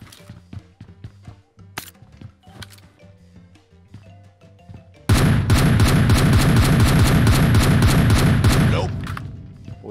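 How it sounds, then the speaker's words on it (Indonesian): Gunfire in the mobile battle royale game PUBG Mobile: scattered single shots at first, then a sudden loud, dense burst of rapid automatic fire that lasts about four seconds and fades. "Tembakan gua bro."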